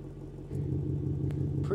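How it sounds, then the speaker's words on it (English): Loud truck exhaust switched into normal mode, a steady deep rumbling drone that swells louder about halfway through and then holds, close and continuous. "here you can actually hear the change when I go into normal."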